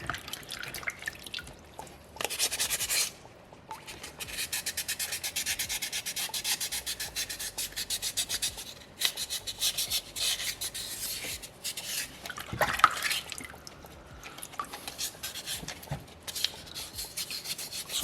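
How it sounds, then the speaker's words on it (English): Sandpaper number 3 rubs over a small soapstone orca carving, a close, steady, gritty scraping in repeated strokes with short pauses between passes and no speech. "Pretty close to done with sandpaper number 3 here"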